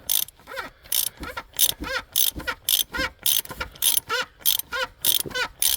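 A ratchet wrench unscrews the oil drain plug on a 2017 Jeep Wrangler, giving about fifteen sharp, evenly spaced clicking bursts in a steady back-and-forth rhythm, close and clear with no talk.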